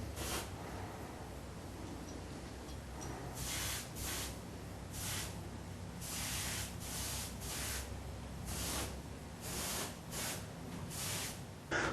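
A spray gun lays polymer coating onto gun parts in a run of repeated hissing bursts, each a second or so long with short pauses between, steady and close.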